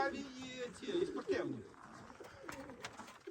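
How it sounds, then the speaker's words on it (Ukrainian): Pigeons kept at a farmstead coo in low, throaty bursts close by, with a faint chatter of other birds and background noise in between. "О, такі голуби чоловік тримає."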